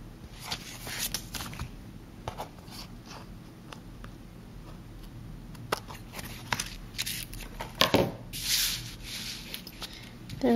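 Scissors trim the edges of a paper bow on a handmade card, giving soft close snips and paper rustles under quiet handling, with a louder crinkle near the end.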